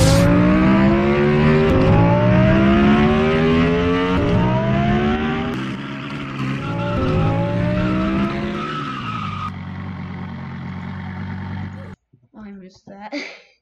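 Lamborghini Huracan engine in a vehicle simulator video game, a loud, continuous engine drone with rising revs across repeated gear shifts, fading to a lower idle near the end, where brief talk follows.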